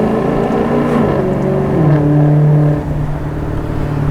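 A Maserati GranTurismo driven on the road, its engine droning steadily and loudly with a rising then settling tone as revs change, close to the microphone with no talking.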